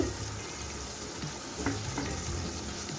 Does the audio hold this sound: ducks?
no